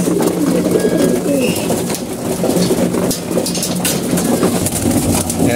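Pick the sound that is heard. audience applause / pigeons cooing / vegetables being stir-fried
pigeons cooing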